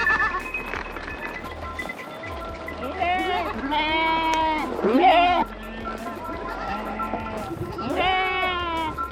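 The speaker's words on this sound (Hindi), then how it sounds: "टोटल कितनी भेड़ बकरियाँ?" A roadside flock of about 300 sheep and goats near Bikaner, Rajasthan, bleating repeatedly from close by, with several overlapping wavering calls over steady outdoor rumble.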